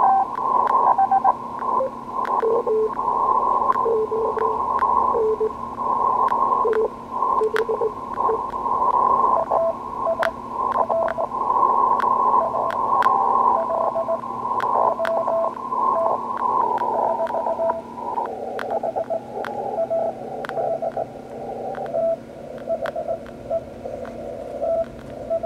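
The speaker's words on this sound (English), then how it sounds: "Switch over to CW mode, and I'll go ahead and get it in the passband." CW Morse code received on a FlexRadio 1500 running PowerSDR, a steady keyed tone over hiss and static crackle, faint and continuous for about twenty-five seconds.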